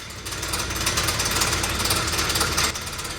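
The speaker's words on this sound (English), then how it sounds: "if you ever want to know how your engine shouldn't sound," A badly running car engine idles roughly, rattling like a bag of nails, with a steady loud mechanical knock and vibration that continues throughout and dips slightly near the end.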